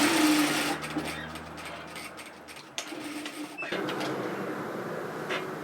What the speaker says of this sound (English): I'm going to pin stitch that edge